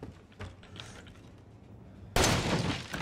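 Loud gunshots in the survival horror game Resident Evil 7: Biohazard: a single sharp, forceful blast breaks in after a quiet stretch of faint shuffling and rings out with a long, noisy tail.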